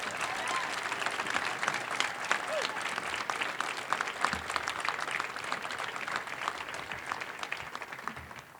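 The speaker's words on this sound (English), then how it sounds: "let's thank them with a unified big U of L cheer." A crowd at a university campaign celebration applauds its donors, dense sustained clapping that stays loud and even throughout, with a voice speaking faintly under it.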